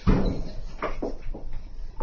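An elevator door at the Isetan department store in Shinjuku slides shut with a low rumble and a few soft thuds, with muffled movement around it.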